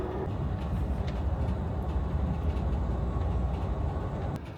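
Amtrak Texas Eagle train standing at the Mineola, Texas station, a steady low rumble of engine and rail car noise filling the whole stretch with no voices.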